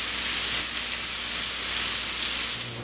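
Steady, dense sizzle from seared steaks on a grill as a glaze is brushed on, a loud close hiss of frying fat that holds evenly throughout and fades slightly at the end, with no voices.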